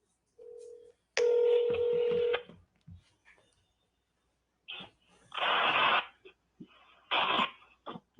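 A phone dials out to make a call, with a short tone followed by a sustained multi-tone dialing burst, then bursts of harsh line noise and static, close and moderately loud, with no speech.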